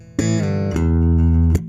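Sustained, resonant bass notes struck in three separate attacks, each ringing out full and loud with a bright percussive edge at the onset.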